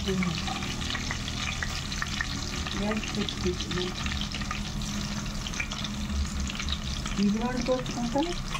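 Fish pieces for a fish curry frying in hot oil, a continuous close sizzle and crackle with occasional stirring, no talk.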